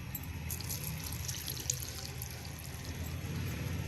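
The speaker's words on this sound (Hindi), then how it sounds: "अब हम इसमें 2 गिलास पानी डालेंगे" Water is poured from glasses into a pot of sarson ka saag, a soft continuous splashing and gurgling heard up close at low volume, steady throughout without speech.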